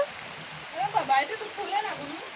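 Heavy rain pours down outdoors around people dressed up for photos with umbrellas, a soft steady hiss with voices talking over it throughout.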